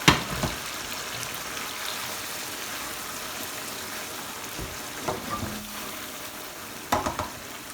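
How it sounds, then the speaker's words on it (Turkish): Salmon with tomato sauce frying in a pan, a continuous loud sizzle with bursts of stirring scrapes and splutters, close up and without voices. "Domates sosumu da üstüne ekliyorum. Ve karıştırıyorum."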